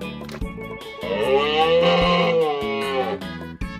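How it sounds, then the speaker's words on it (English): A cow moos in one long, loud, drawn-out call lasting around two seconds, close and clear, with no speech around it. "Cow."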